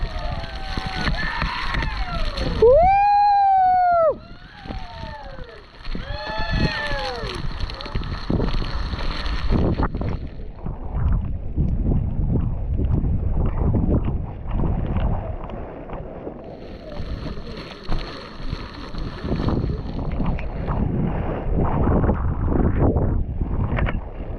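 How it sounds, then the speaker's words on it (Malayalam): Strong wind buffets the camera microphone during rain in hilly Mahabaleshwar, a rough, gusting roar that rises and falls, with a brief whistling tone early on. "കാറ്റ് അവിടുന്ന് മഴവെള്ളം വന്ന് ലെൻസിനാണ് വന്ന് കൊടുക്കണത്"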